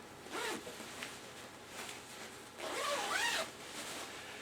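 A zipper on a mesh plastic airsoft oversuit is run in short rasping pulls, with a brief tug early on and a longer, louder zip near the end, close by in a quiet room.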